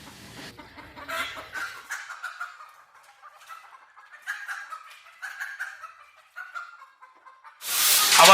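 Chickens raised on corn-based feed cluck and chatter in a coop, a series of short, moderately close calls in irregular bursts, ending in a sudden loud rush of noise.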